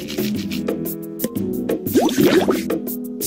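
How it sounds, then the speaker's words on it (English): Cartoonish water splashing from a children's dinosaur video game as a stegosaurus bathes, a run of wet plops and drips over a steady tonal music bed, growing busier toward the end. "Splashy splash, Stegosaurus is taking a bath."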